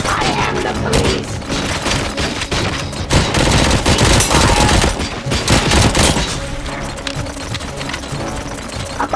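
In the RoboCop: Rogue City video game, sustained heavy gunfire goes on for several seconds: dense, loud automatic bursts with booming impacts that ease off toward the end.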